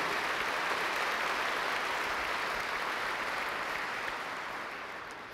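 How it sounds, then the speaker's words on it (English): A conference audience claps for sponsors and partners, a dense, steady wash of applause that carries on throughout and thins slightly toward the end. "So please give a warm round of applause for these sponsors and partners."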